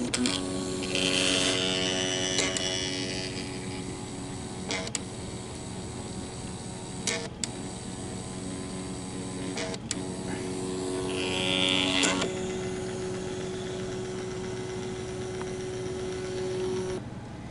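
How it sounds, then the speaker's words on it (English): An HP Photoscanner 1000 picture scanner runs its stepper motor, producing a steady whining buzz with sustained tonal hums and a few sharp clicks. A couple of brief louder whirring swells occur as the carriage moves, all fairly close and alone. "Listen to that stepper motor sound."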